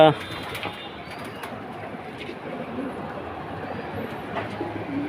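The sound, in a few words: pigeons cooing in a loft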